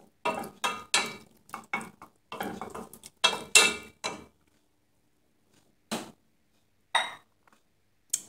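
Rice and pieces of chicken breast being stirred in a dish, with a run of quick scraping and clinking strokes that then thin out into a few isolated knocks.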